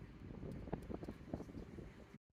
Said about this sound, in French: Je vous montre pas trop parce que là, il y a beaucoup de vent.